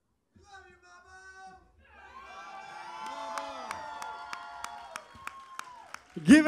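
An audience at a unit-versus-unit karaoke contest breaks into cheering and applause for the contestants, rising after a spoken announcement into sustained clapping and whoops with sharp claps standing out.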